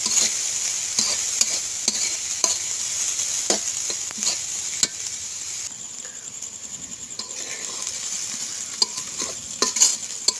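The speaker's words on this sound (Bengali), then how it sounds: "পেঁয়াজ মরিচ কুচি করে রাখা সেগুলো ভেজে নেব" Chopped onion and green chilies sizzle steadily in hot oil while a spatula stirs them, with repeated scraping strokes at an uneven rhythm close up, heard alone without talk.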